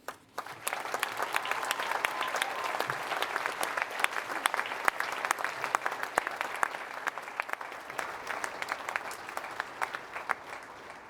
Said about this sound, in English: And cheer now for each and every colleague.